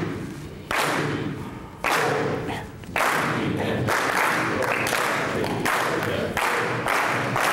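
An audience in a rhythm lecture claps together in a beat, producing a dense, loud wash of hand claps that stops and restarts in blocks, with short gaps between sections.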